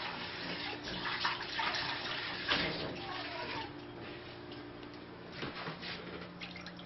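Water runs from a tap into a saucepan holding small sausages in a home kitchen. The splashing and trickling stream is close and moderately loud, with small surges and brief pauses.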